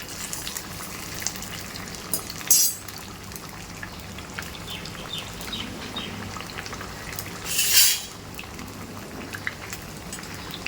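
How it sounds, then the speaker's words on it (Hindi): Potato and semolina breakfast snack frying in hot oil over a high gas flame, a steady soft sizzle and crackle broken by two louder bursts of spattering. "आपको अच्छे गरम ऑयल में आपको डालना है और गैस की फ्लेम भी फास्ट रखना है"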